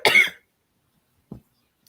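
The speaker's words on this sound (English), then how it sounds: "My cough is bad today." Two coughs from a person with a bad cough: a loud, harsh one at the start, then after a pause a shorter, weaker cough, with silence around them.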